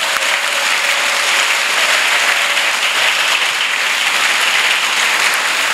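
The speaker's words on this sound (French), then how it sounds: "Clap for Jesus Christ" A congregation at a bilingual French and English church service claps and applauds for the entire stretch, a dense, steady roar of many hands at full volume with no break.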